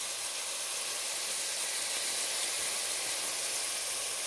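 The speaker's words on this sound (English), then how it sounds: "y'all hear that sizzle?" A steady, bright sizzling hiss from hot oil with diced garlic and onion in a pan continues without pause, close and fairly loud.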